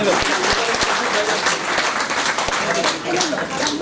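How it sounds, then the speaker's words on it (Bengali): Dense, loud applause fills an award ceremony hall, sustained clapping from a large audience with voices mixed in throughout. "রক্তগর্ভা মা হালিমা খাতুনের জন্য জোরে করতালি।"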